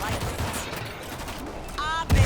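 Rapid bursts of gunfire in the video game World War Z crackle continuously, loud and close, ending with a heavier blast.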